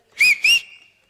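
Two sharp, bright whistle blasts, close and loud, in quick succession, with the second trailing off into a fading tone, as if calling someone over. No talking.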